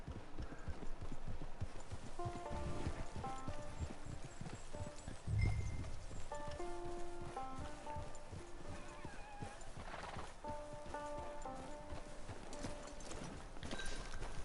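Horse hooves clip-clop steadily on the ground in the Red Dead Redemption 2 video game, a continuous walking rhythm under game music with a short thump midway.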